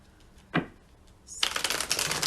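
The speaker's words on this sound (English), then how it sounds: "We'll give it a few more shuffles here so we make sure everything is nice and clear." Tarot cards being shuffled by hand, a soft single snap followed by a rapid, crisp riffling flutter that builds near and fairly loud at the end.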